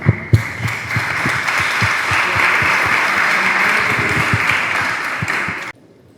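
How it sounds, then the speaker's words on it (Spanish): An audience at a talk and discussion event about a songwriter's music breaks into loud, dense applause with a few sharp hand claps at the start, the clapping holding steady for several seconds before cutting off abruptly. "un aplauso para los que destrozan canciones."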